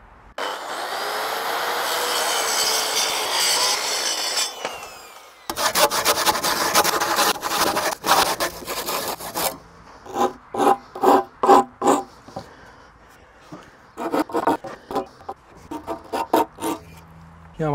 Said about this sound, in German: Ich nehme nämlich die Kreissäge und säge so weit rein, wie ich kann